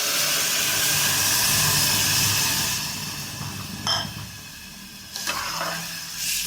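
Water poured into a hot pan of plain pulao after stirring sets off a loud, steady hiss of sizzling and steam that fades after a few seconds, followed by a few faint clinks.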